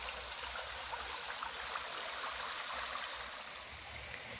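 A small forest stream in a zoo trickles and burbles steadily, a constant close wash of running water with no other sounds.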